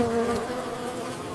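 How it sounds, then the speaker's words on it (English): Honeybees buzz steadily around starfruit blossoms in a hillside orchard, a close, continuous droning hum with no break. "Honeybees are attracted to the nectar."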